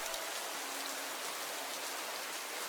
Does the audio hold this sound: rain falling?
yes